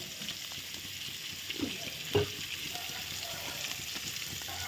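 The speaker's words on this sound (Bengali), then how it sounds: "আর এখানে আলুটা ভাজা হচ্ছে" Potatoes frying in a pan for a home chicken curry, giving a steady, fairly quiet hiss of oil throughout with a brief louder crackle midway.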